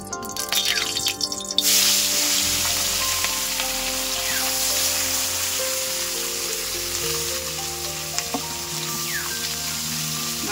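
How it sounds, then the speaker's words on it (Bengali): Mourala fish fry in hot oil in a pan, producing a constant crackling sizzle close by, louder at the start as the fish go in, with scattered pops and faint background sounds. "মাছগুলো একটু ভাজা হোক।"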